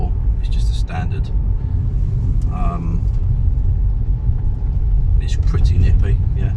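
Rover 25 1.4 pulling away through the gears, a heavy low engine and road rumble heard from inside the cabin, steady and loud, with a person talking over it at intervals.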